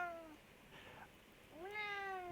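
A pet cat meows twice close by: a short falling cry, a soft muffled sound in the pause, then a longer, louder meow that rises and holds in a quiet room.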